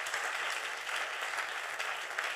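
A church congregation applauds in acclaim of Jesus, a dense, steady wash of many clapping hands heard alone.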